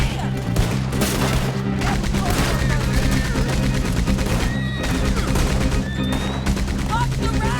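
Gunfire in Red Dead Redemption 2 during a Beaver Hollow shootout: dense, rapid shots crackling continuously in loud overlapping bursts, with shouting voices and a horse whinny mixed in.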